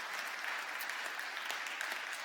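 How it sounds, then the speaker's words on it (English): A church congregation claps for two people after a missions interview at a Sunday service, the soft, steady applause lasting throughout at a moderate distance. "Round of applause for these two."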